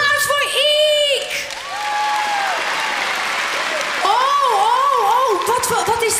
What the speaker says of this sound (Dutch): Applaus voor Iek!